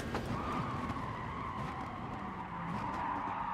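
Car tires screeching under late braking in Gran Turismo Sport, a sustained close skid squeal over the engine roar of a race car, continuous for several seconds.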